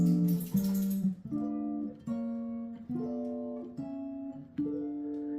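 A guitar plays a diminished scale in two-note shapes, moving up step by step in about seven evenly spaced plucked dyads that ring clearly, with no talking.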